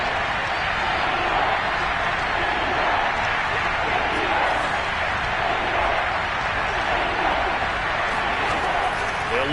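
A football stadium crowd at an Eagles game roars in a steady, dense wall of noise. It stays loud and constant, with excited shouting blended into the din.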